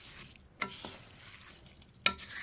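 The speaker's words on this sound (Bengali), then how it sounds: "তবে নেড়ে চেড়ে কিছুক্ষণ আস্তে আস্তে কিছুক্ষণ কষিয়ে নিব" Khichuri is stirred and fried in a pan at home, with a faint low sizzle and two sharp scraping clinks from the spoon about a second and a half apart.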